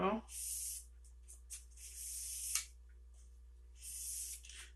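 A blade is stroked across fresh 2000 grit sandpaper, rocking from the back onto the bevel, producing soft airy scraping strokes in separate passes with quiet gaps between them, near and faint.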